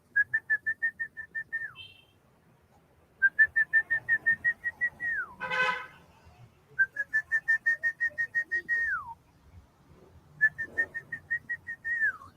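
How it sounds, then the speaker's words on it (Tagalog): A person whistles a repeated series of quick, evenly spaced notes ending in a downward slide, several phrases separated by short pauses, clear and fairly close. "sisipol lang. Ganito lang sipol"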